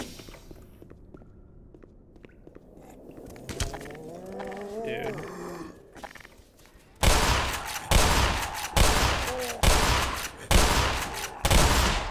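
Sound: shotgun fire in Black Mesa video game

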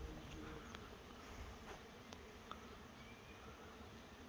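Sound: honey bee swarm leaving a box

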